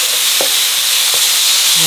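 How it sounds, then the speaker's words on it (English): Beef stir-fries in a Sunbeam Duraceramic electric frypan with little oil, giving a loud, continuous hiss close up, broken by a couple of scraping strokes of a utensil across the pan. "Today we're going to cook stir fried beef with white rice noodles."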